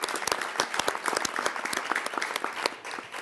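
Applause at the 2015 U.S. Conference of Mayors annual meeting press conference, a dense burst of many hands clapping fairly close and steady for several seconds, with no one speaking.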